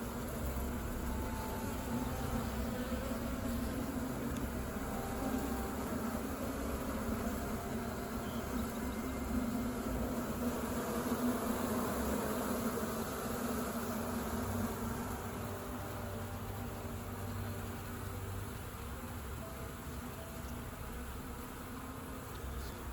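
A honey bee swarm fanning hard inside a box makes a dense, continuous buzzing drone, close and unbroken, dropping slightly in level near the end.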